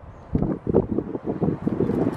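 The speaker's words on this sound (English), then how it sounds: "it is very, very windy today. We keep getting big gusts." Gusty wind buffets the microphone in uneven rumbling bursts, loud and close, with no voices.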